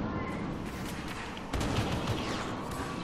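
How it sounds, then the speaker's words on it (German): Grenades exploding in Star Wars Battlefront on the Death Star map, a dense rumbling wash of blasts with a heavier burst around the midpoint, continuous battle noise throughout. "Boah, hier drüben fliegen nur Granaten."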